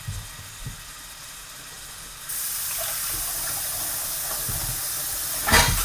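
A kitchen tap runs steadily while a cutting board is rinsed, with a low trickle at first that swells into a full, close hiss of water and a brief splash near the end.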